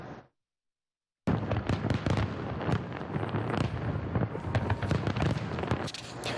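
Fireworks going off during fireworks night in Detroit, a steady barrage of sharp crackling bangs and pops after a brief silent gap, loud and continuous.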